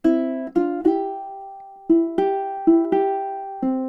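Ukulele played in three-finger picking style, working through measures 25–26: a short run of bright plucked notes in an uneven rhythm, some grouped close together and others spaced apart, each ringing out clearly with no talking.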